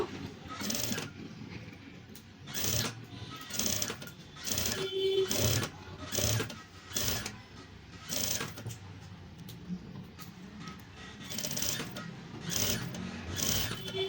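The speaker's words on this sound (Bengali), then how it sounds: "আগে কুচির ফলটায় আগে একটা কাপড় সেলাই দিয়ে নেব" A sewing machine stitches cloth onto the frill of a baby's sleeveless frock in repeated short bursts of rapid whirring with brief pauses between, close and moderately loud, with no talk.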